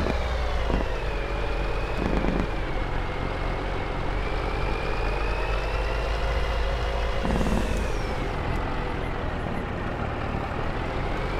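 Truck and trailer in Farming Simulator 22 with a steady loud diesel engine drone throughout, punctuated by several short hissing air brake releases, near and continuous.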